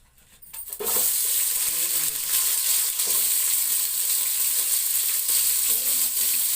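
Onions hit hot oil in a pan for pulao, starting from near quiet and bursting into a loud, continuous frying sizzle that holds steady to the end, with faint stirring underneath.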